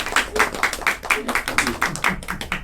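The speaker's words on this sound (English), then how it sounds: "it deserves a round of applause from you guys" A room of students gives a lively round of applause, a close and loud burst of claps in quick, uneven rhythm throughout.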